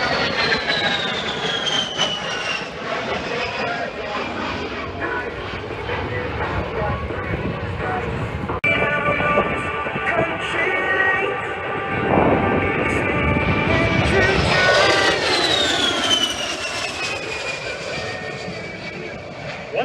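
An A-10 Thunderbolt II Warthog jet performs maneuvers at an airshow, a continuous loud engine roar with shifting whine that swells and sweeps in pitch as it passes, with an announcer talking over it.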